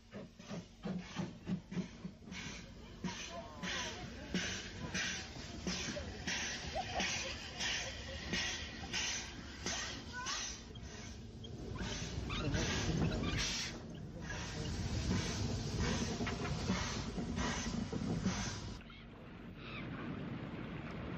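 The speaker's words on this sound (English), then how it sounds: "The Westinghouse pumps made a characteristic panting noise, which added a great deal of charm and interest to the island's railways." Westinghouse air pumps on a steam locomotive on the Isle of Wight railway pant in a quick rhythmic series of pulses, then give way to a steadier, louder hiss and rumble that fades near the end.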